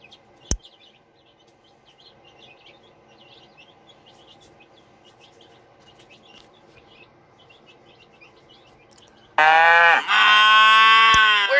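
Cattle moo loudly and close from a grassy grazing field, a long drawn-out harmonic call near the end following a quiet stretch of faint background birdsong.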